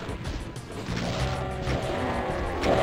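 Gunfire at a Baron of Hell in Doom II, rapid repeated shots blending into a dense, loud barrage of crashing blasts with no pauses.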